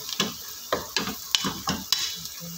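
Garlic and ginger paste spooned into a hot pan for chicken biryani, giving repeated stirring scrapes and bursts of sizzling frying, close and moderately loud, with no voices.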